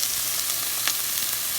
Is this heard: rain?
no